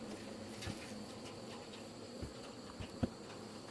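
Black hornets buzzing as a faint, steady insect drone, with a few soft close passes rising briefly above the hum in a quiet setting.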